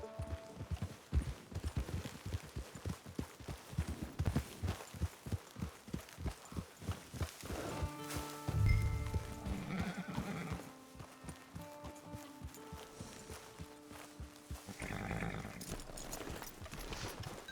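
Horse hooves clip-clop in rapid, steady rhythm in the video game Red Dead Redemption 2, then a horse whinnies loudly before the hoofbeats resume more faintly.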